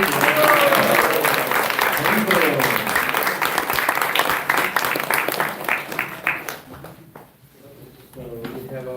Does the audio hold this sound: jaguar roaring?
no